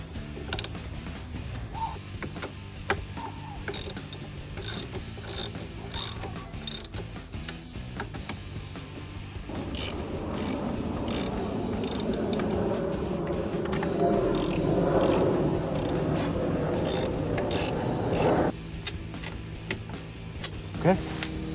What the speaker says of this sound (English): we can use our 10mm to tighten them all down